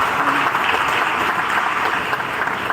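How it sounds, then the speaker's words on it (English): Applause from an audience at a stage event with a ramp walk, a dense, steady clapping that fills the whole moment at even loudness with no voices over it. "Can we have a big round of applause"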